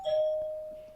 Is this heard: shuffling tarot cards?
no